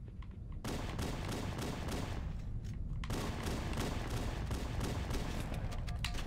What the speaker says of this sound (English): I heard their assault rifle.